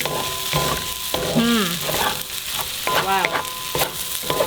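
Pineapple fried rice with soy sauce being stirred in a hot wok, a steady sizzle and scrape of the spatula through the rice, close and continuous, with a brief exclamation from a person partway through.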